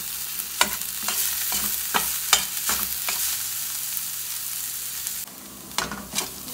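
Chorizo browning in its own rendered fat in a pan, a steady close sizzle broken by repeated stirring scrapes and clacks, with no talking.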